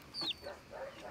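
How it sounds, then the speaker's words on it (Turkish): Young roosters give a brief close cluck and a short rising squawk, fairly faint, with soft rustling and no voices over it. "Yeni horozlarımız artık büyüdü mü bunlar horozluk yapacak artık tavuklarımıza."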